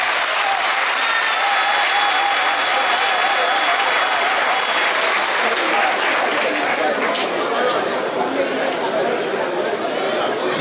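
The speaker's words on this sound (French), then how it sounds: "je vous prie de les applaudir une fois" Sustained, loud applause from a large crowd at a political rally, dense clapping mixed with cheering and chatter that holds steady throughout without fading.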